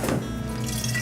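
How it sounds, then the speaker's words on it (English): Lavender simple syrup pours steadily into a container for lilac lemonade, a brief liquid trickle with no voices over it. "So we're gonna pour the simple syrup into."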